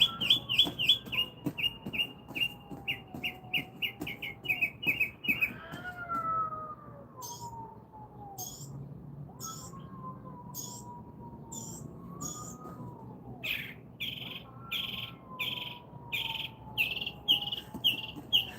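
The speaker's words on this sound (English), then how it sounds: "Nope, these are legit birds." Birds sing and chirp in a repeating series of bright calls, fairly close, in an outdoor setting where a cat fight is also going on, with varied whistled phrases and no talk.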